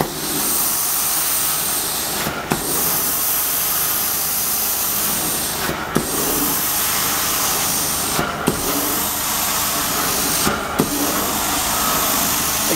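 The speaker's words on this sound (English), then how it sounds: "That's why you see that massive steam coming out of the wand." A loud, steady hiss of steam spraying from an Amtex Prowler 2533 LP carpet extractor wand runs continuously, broken by a few short clicks at regular intervals.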